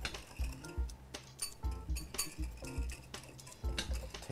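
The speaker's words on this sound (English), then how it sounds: "you can now whisk, kind of mix the two, the flour and the sugar" Flour and sugar get mixed with a metal whisk in a bowl: a quick, steady run of clinking taps against the bowl's sides, heard close, with no voices.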